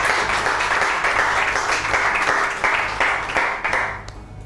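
Studio audience at a weekend beauty show applauding, a sustained burst of many hands clapping close and loud that fades away at the end.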